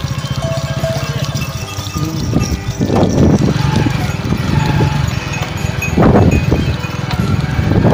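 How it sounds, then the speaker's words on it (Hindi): A flock of sheep walks past on the way to graze, their hooves making a continuous clattering, clip-clop patter close by, with a steady low hum and some voices in the background. "हाँ, भेड़ आ रही है।"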